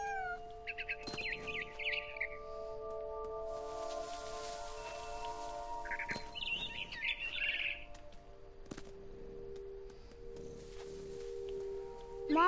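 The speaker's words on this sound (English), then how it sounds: "Then I heard chirping outside my window. It was a barn swallow going back to her nest." Barn swallow chirps in a video game come as short bright bursts of twittering, two main clusters over a steady tonal music-like background, fairly faint.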